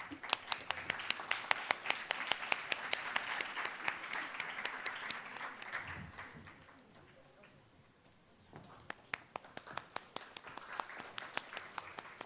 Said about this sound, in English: Can we please have applause?